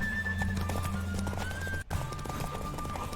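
Horse hooves clip-clop steadily at a fast pace as a mount races along a road in The Witcher 3: Wild Hunt, alone and fairly quiet, with a brief dropout midway.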